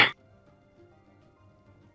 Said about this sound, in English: Sorry, I had a pretty big cough.